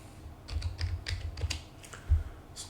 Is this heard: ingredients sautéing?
no